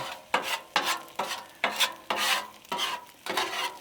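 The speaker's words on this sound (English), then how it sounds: "So you just want to kind of scramble those eggs the best that you can." A spatula scrapes back and forth through eggs scrambling in a pan, about eight rhythmic rasping strokes with soft sizzling between them, close and clear with no talking.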